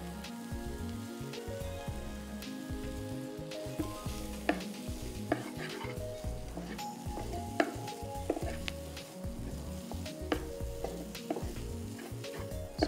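Boiled basmati rice is tossed and mixed in a hot pan with pineapple, pepper, salt and sugar, giving a continuous close sizzle under repeated scraping and clinking stirs, with no talking.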